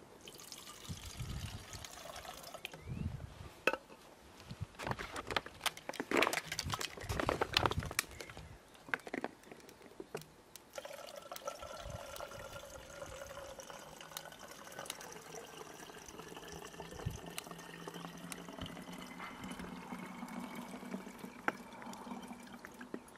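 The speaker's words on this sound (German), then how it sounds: "mein Auftrag war es ja, diese Flasche zu füllen" Water runs from a reverse osmosis filter into a bottle, a steady close trickle that shifts in tone as the bottle fills, with occasional handling clunks and no speech.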